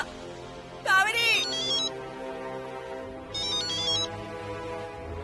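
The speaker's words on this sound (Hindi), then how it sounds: "अरे फोन बज रहा है तेरा" A mobile phone rings at home with two bursts of an electronic melodic ringtone, separated by a short pause, while a voice talks nearby.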